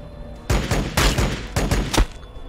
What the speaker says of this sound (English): if I can pick off this group with the bolt pistols